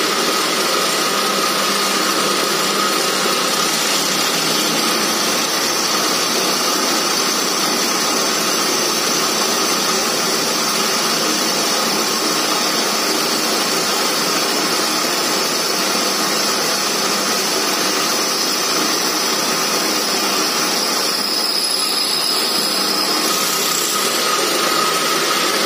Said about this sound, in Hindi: मशीन को ऑन कर दीजिए, ऑन करने के बाद ड्रिल को पूरा दीजिए